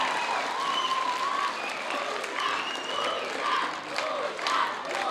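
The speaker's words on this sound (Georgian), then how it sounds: "აპლოდისმენტები ჩვენს ძეგლებს და შვილებს." Dense, steady applause from a large audience fills the hall for the children performing at the Georgian choreographers' union dance festival 'Let's Dance in Georgian 2025', swelling and dipping slightly throughout without a break.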